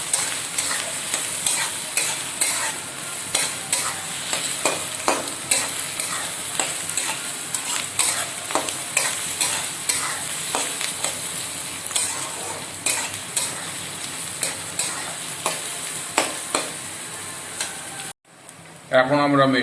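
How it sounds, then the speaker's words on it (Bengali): Fried onion with grated garlic and ginger is stirred in a hot pan for dal tarka, a steady sizzle with a regular scraping rhythm of spoon strokes, close up, stopping briefly near the end. "এখন এর মধ্যে আমরা গ্রেট করা রসুন, গ্রেট করা আদা মিশিয়ে নেব"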